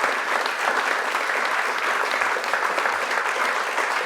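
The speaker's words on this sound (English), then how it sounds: "Why is anyone applauding that at all?" An audience claps steadily through a political speech in Hastings, giving a dense, even wash of applause at close range with no voices over it.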